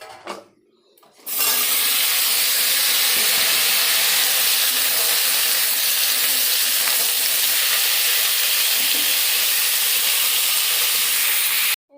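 Fish roe frying in hot oil in a pan, a loud, dense, continuous sizzle and hiss that starts abruptly after a brief quiet moment and holds steady until it cuts off.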